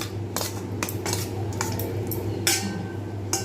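Chicken pieces mixed with egg for chili chicken are stirred in a bowl, making a series of close, light metallic clinks and soft wet squishes over a low steady background hum.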